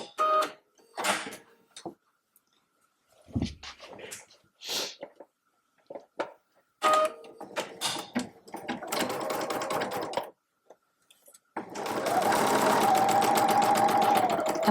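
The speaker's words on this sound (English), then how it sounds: "let's get sewing" A sewing machine stitches a simple tote bag, starting with scattered handling clicks and short stop-start runs, then settling into a steady, fast mechanical whir near the end.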